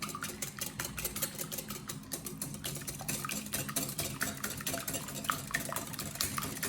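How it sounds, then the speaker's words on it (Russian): A spoon stirs a keto pizza base mixture with coconut flour, dried Italian herbs and garlic in a bowl, making quiet repeated scraping and tapping strokes in a steady rhythm, soft and close. "Мешаем это все."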